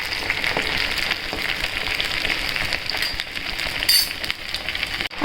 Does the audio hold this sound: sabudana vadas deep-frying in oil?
yes